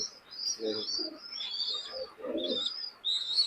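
A white golden high-flying pigeon gives soft low coos in short bursts, with faint higher chirps from other birds nearby, close and fairly quiet.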